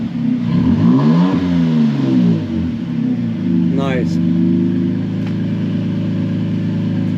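A Toyota Tacoma's engine revs through an MBRP stainless steel dual exhaust, a loud, close, deep rumble that rises and falls over a couple of throttle blips and then settles into a steady idle, with people talking over it.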